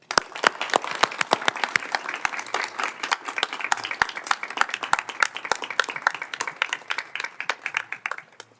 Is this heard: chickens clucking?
no